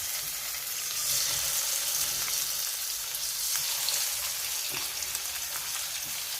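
Pabda fish frying in a pan, a steady close hiss and crackle of hot oil with a few faint stirring scrapes, continuous and fairly loud.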